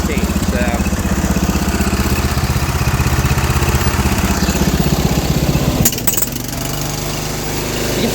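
John Deere 210 garden tractor with a Kohler K341 16 HP single-cylinder engine with a leaking head gasket, chugging loudly and steadily up close, then dropping abruptly to a lower, smoother idle about two-thirds of the way through.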